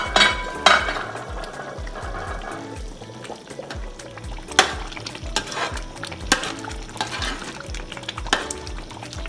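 Fried meat stirred into a Nigerian stew that has been boiling for about ten minutes, giving a steady bubbling and sizzling with repeated scraping stirs and occasional clinks, close and continuous.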